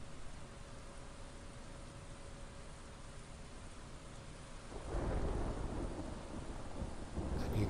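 Rain hisses steadily in the Star Wars Galaxies game, then a deep rumble of thunder swells and rolls on under the downpour, loud and broad toward the end.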